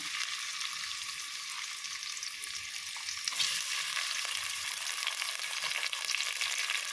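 Onions frying in hot oil with masala for kadumā biryani, a steady loud hiss and crackle that swells midway as more goes into the pan, with no voices.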